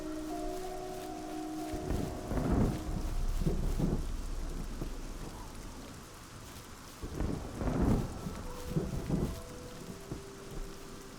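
Steady rain hisses while rolling thunder rumbles twice in the fantasy game Oblivion, each deep booming swell rising over the constant downpour and fading away.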